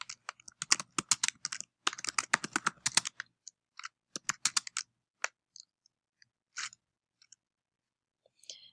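Quick bursts of close keystrokes clatter on a computer keyboard as a document title is typed in a word processor, the pace thinning out into a few scattered taps toward the end.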